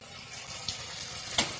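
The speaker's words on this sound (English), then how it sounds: "we're just going to let them fry for a short amount of time" Samosas deep-fry in hot oil, making a continuous hissing, bubbling rush at close range with a few sharper crackling bursts near the end and no talking.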